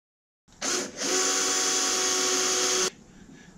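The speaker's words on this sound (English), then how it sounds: "we're going to drill some holes" A power drill bores holes into the body of a vintage Porsche 911 Targa under restoration in a garage, its motor whirring in a short burst, then running steadily and loudly for about two seconds before stopping.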